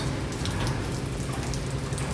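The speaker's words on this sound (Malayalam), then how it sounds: "മഴയാണ് ഗൈസ്." Rain falls steadily outdoors, a dense, even hiss with a low rumble underneath, fairly loud and without talk.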